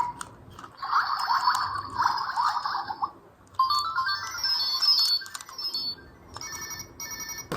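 A small keychain soundboard won from a claw machine plays short electronic jingles, bright tonal beeps and melodies in several bursts separated by brief pauses, close and fairly loud.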